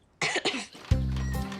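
A single harsh cough bursts out from a young character in a teen TV drama, close and fairly loud, with a short run of throaty rasps before a voiced tone takes over.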